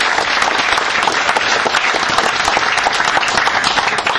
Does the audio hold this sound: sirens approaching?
no